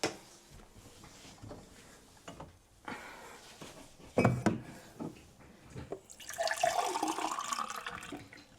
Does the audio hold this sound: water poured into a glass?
yes